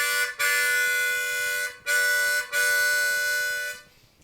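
A harmonica double stop drawn on the 3 and 4 holes imitates a train whistle, played as three sustained wailing blasts, the first short and the next two longer, separated by brief gaps and fading at the end.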